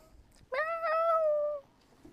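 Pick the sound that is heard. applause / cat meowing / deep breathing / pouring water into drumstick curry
cat meowing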